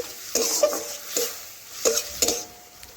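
A spoon stirs a mustard mixture in a pan while cooking, giving a few short scraping and clinking strokes against the metal over a soft background hiss.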